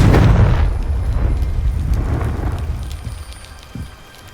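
A fire blast spell (Confringo) detonates in a video game, a loud close boom at the start followed by a crackling, rumbling tail that fades over a few seconds.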